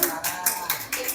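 Scattered hand claps from a small audience at a student quiz event, a few broadband bursts over about a second, moderately loud and fairly close, with no talk over them.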